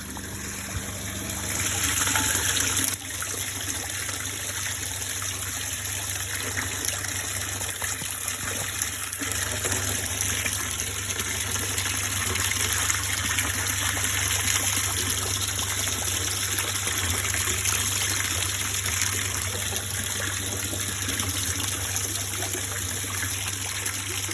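Water gushing steadily into a sprayer tank being filled for spraying a maize crop, a continuous loud pouring rush with a constant low pump-like hum underneath.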